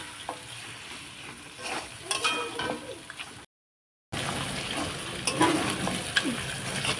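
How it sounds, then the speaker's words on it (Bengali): Mutton sautéing in oil in a home kitchen, with a constant sizzle and intermittent stirring scrapes and clinks of a utensil against the pot. A short silent gap breaks it midway, and no one speaks. "তো মাংসটা এদিকে আস্তে আস্তে কিন্তু কষে নিচ্ছিলাম"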